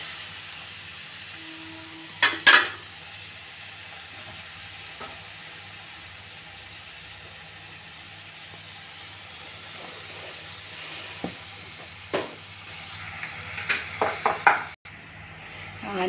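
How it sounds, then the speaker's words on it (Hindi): Onions frying in a pan over high heat, with a steady low sizzle throughout and scattered clinks and scrapes of stirring, clustered near the start and again toward the end. "ये चूल्हे को तेज़ में ही रखें और प्याज को थोड़ा थोड़ा देर में चलाते रहें।"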